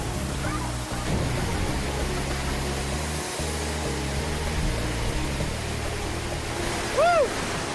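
A waterfall at the source of the Siem Reap river in Cambodia gives a steady, dense roar of falling water, loud and close throughout, with faint murmurs beneath it.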